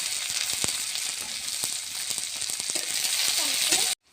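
Onions fry in hot oil with black cumin seeds in a wok, giving a steady, close sizzle with scattered crackles and pops that runs throughout before cutting off abruptly at the end.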